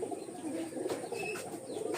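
A pigeon coos softly close by, low murmuring calls repeating over a faint background hiss.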